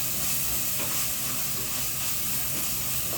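Onions sautéing in a hot pan with turmeric and ginger-garlic paste give off a steady, even sizzle and hiss that carries on without a break, with nobody talking.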